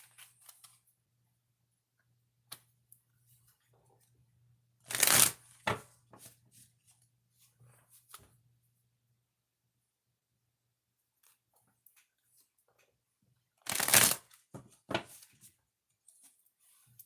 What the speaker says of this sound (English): 2 shuffles.